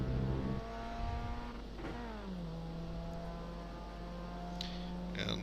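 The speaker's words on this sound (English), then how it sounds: "On throttle again." A car engine at Suzuka circuit drones close by as the driver goes back on throttle; its tone dips and then holds steady under a constant hum.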